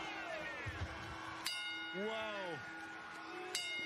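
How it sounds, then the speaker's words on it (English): Bell rung at a wrestling event: sharp metallic clangs strike twice a couple of seconds apart, fairly faint within a noisy arena mix with other tonal sounds and possible voices. "Julia Hart is ringing the bell, Panda."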